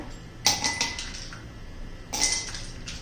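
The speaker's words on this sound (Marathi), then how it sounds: "आता आपण ह्या ग्लासामध्ये बर्फ घालून घेऊया" Ice cubes are dropped into a glass of fennel sherbet in two quick bursts, each a cluster of bright clinks and rattles that fades within a second, with quiet pauses between.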